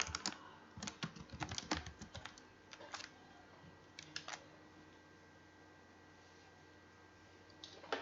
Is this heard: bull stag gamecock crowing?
no